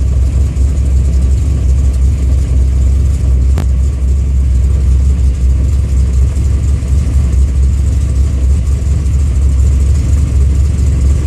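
A flooded car engine runs with a loud, steady, rough low rumble that holds without a break for about eleven seconds, with one brief click partway through.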